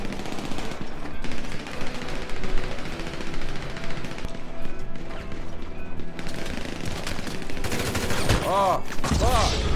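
Assault rifle gunfire in GTA 5 erupts in rapid automatic bursts throughout, loud and dense, with crashes and whooshing game effects toward the end.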